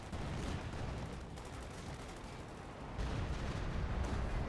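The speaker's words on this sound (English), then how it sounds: "Over here, we have artillery dropping huge shells." Artillery shells dropping and exploding in the Company of Heroes war game, a dense rumbling barrage of blasts and gunfire that swells louder partway through, continuous and heavy.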